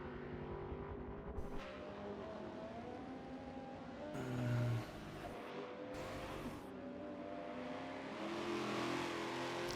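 A Mercedes C300 and an Aston Martin race along the straight at a VIR sport touring round, their engines droning and revving steadily at a distance, with tire noise and a brief surge as one passes.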